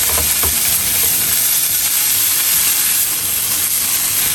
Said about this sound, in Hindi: अब ये मेरे पास पिज़्ज़ा सॉस है, ये मैं ऐड कर देती हूँ।